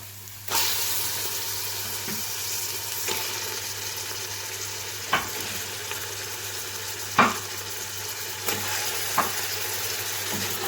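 Beef hits browned onions in a hot karahi and fries with a steady, moderately loud sizzle, broken by a few sharp scrapes and clanks of a spoon against the pan.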